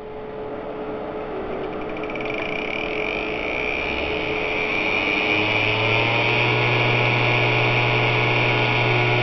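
A homemade high-speed grinder built from an old 5400 RPM hard drive motor spins up into a steady whirring whine that grows slightly louder over time, with a low hum underneath and no talk.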